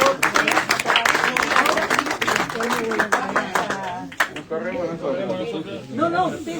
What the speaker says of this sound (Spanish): Creo que podemos recibirlo con un aplauso por la firma